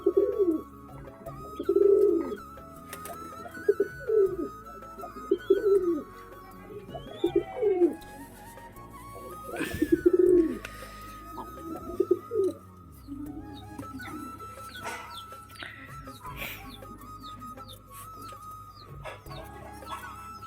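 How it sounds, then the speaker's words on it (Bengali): Pet pigeons wandering outside a loft coo in repeated low, throaty phrases, with other birds chirping and calling around them in an outdoor setting. "এই যে বাইরে সব ঘুরে বেড়াচ্ছে আমার পায়রা এখন"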